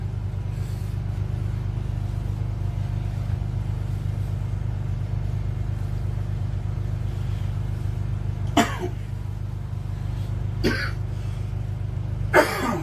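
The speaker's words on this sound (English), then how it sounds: "Still getting over the cough from influenza A." Three short, sharp coughs from a man recovering from influenza A ring out late in the clip on an ice-fishing lake, spaced a couple of seconds apart over a steady low engine-like hum.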